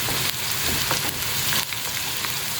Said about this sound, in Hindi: अब ये मसाले डाल के मैं इसको थोड़ा सा भूनूँगी।